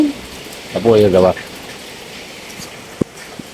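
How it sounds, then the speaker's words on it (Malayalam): Steady heavy rain hisses throughout, with a short spoken phrase and a couple of sharp knocks over the downpour. "ഇവിടെ ഏതായാലും നല്ല മഴ"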